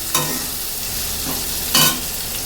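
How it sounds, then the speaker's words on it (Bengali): Ingredients for a fish-roe curry fry in oil until light brown, a continuous close sizzle broken by two sharp stirring scrapes near the start and end. "এবার এটাকে হালকা করে ব্রাউন কালার করে ভেজে নেব, হালকা ব্রাউন, বেশি না।"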